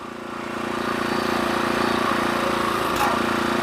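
A sawmill blade cuts steadily through a log before a logging show, a continuous loud droning whine with a slight shift near the end.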